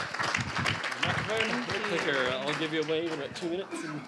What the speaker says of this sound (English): Annika, give a round of applause.